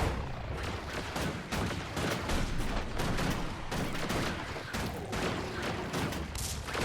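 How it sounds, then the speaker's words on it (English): Rapid gunfire from a Mechanist's robot in the video game Guild Wars 2, with dense, continuous volleys of sharp shots crackling steadily throughout at moderate level and no one speaking. "My robot does a lot of gunfire."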